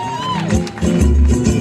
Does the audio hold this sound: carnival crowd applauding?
yes